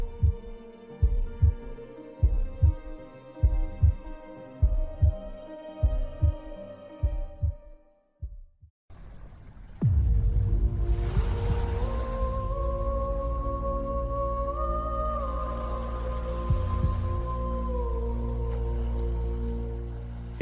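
A heartbeat sound effect thumps out a steady run of double beats for about eight seconds, then stops and gives way to a loud, sustained low drone with gliding tones.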